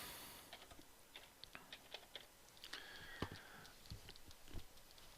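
Typing on a computer keyboard while working in Affinity Designer, a run of quick, light key taps in an irregular rhythm, fairly close and quiet, with no talking.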